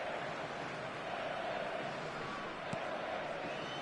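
Steady stadium crowd noise and applause in the eFootball 2026 football video game, a continuous broad wash of cheering at even loudness, with a single brief thump partway through.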